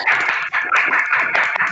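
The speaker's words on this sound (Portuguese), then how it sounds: "Eu peço que todos abram o microfone para uma salva de palmas" Participants in an online seminar clap together through open microphones, producing a dense, slightly compressed patter of applause that swells and dips briefly, with a faint voice in the mix.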